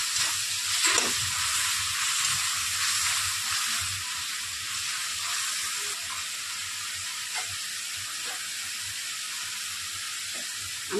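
Chili omelette gravy with a spoon of soy sauce being stirred in a frying pan: a soft, even sizzle and hiss with occasional faint taps and scrapes of the spatula, no voices.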